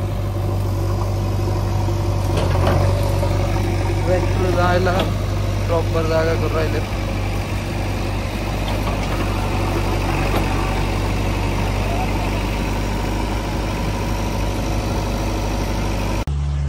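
A tractor engine idles at a drilling site, a loud steady low rumble running throughout while someone talks over it.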